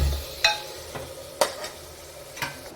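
Chillies cooking in a pan for a mutton dish: a soft sizzle with a few sharp scraping stirs of a spoon against the pan, spaced about a second apart, fairly quiet and close.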